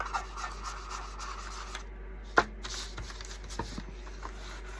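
Brown top coat wax is rubbed onto the edges of a scrap wood decor piece, producing soft, close scratchy rubbing strokes with a sharp tap midway and quiet handling noises.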